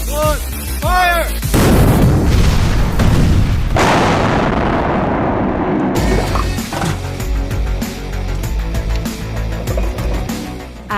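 Army combat engineers set off a demolition charge: one loud, close blast followed by a long, rumbling roar and debris that fades over several seconds into quieter outdoor noise.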